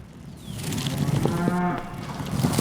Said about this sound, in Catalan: Alerta, que t'agafa el bou!